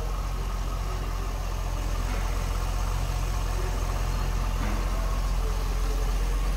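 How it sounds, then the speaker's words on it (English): A stock 2004 Chevrolet Corvette engine idles steadily at close range, a low constant rumble with a faint mechanical hum and no talking over it. "Just what you'd expect, stock Corvette engine."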